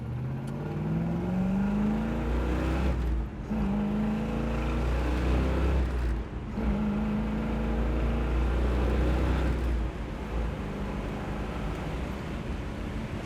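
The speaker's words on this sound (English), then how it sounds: "We'll run it through the gears for you here a little." A 1967 Chevrolet Chevelle SS convertible engine climbs in pitch through several gears, with brief drops at each shift, loud and close with a rumbling exhaust.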